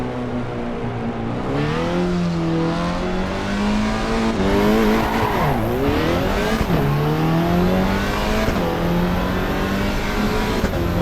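Race car in the Assetto Corsa EVO driving game, its engine loud and close as it revs up and down through gear changes, with tyres squealing; engine noise fills the whole stretch with no talking.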